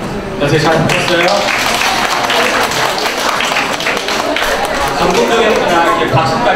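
An audience at a university admissions information session breaks into dense, sustained applause, loud and close throughout.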